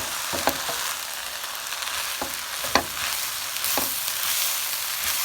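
Shrimp fried rice sizzles steadily in a hot pan, with a few sharp scraping clicks of stirring scattered across it, close and moderately loud with no talking.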